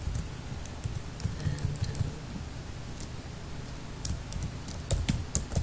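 Steady typing on a computer keyboard, close and fairly quiet, with irregular bursts of key clicks and a few brief pauses, no voices.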